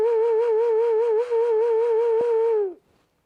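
A single sustained ocarina note played with a steady vibrato wobble, clear and close, holding for under three seconds before cutting off, with no talking.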